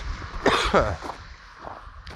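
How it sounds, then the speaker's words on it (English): A single harsh cough, close to the mic, with a couple of rough bursts, then faint background noise. "I still have a cough."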